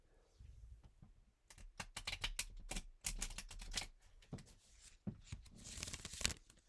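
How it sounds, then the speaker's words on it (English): A deck of playing cards is shuffled close by in several quick riffling bursts of crisp, rapid flutter, each followed by a brief pause. "And then I will shuffle the cards."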